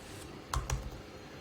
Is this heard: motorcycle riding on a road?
no